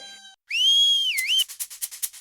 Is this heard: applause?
no